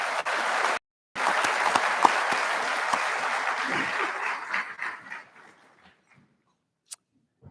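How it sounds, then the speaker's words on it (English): An indoor audience at a city State of the City address applauds council members with steady, loud clapping that fades out over several seconds, followed by a few scattered claps. "Let's give them a round of applause."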